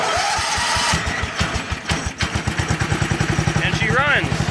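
The engine of a Bolens 1220 garden tractor, fitted with a GM HEI distributor module and crank trigger, cranks and catches, then settles into a loud, close, steady chugging idle, with a voice speaking over the start.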